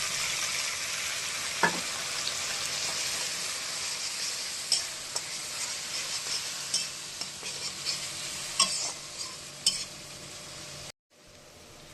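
Spices and mustard seeds frying in hot oil in a pan, a steady close sizzle with scattered clinks and scrapes of stirring, cut off briefly near the end.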